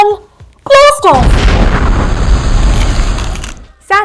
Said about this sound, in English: We are ready to launch Green Rocket into space.